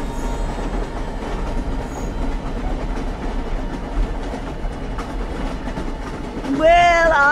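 A steam-era train in the Red Dead Redemption video game rumbles steadily along the rails with a continuous low clatter, close and fairly loud, and a squealing tone rises at the very end.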